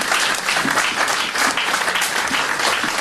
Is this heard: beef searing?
no